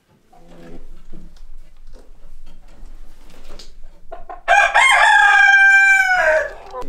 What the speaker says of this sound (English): All 3 roosters. Rhode Island Red, light Sussex, and black Leghorn.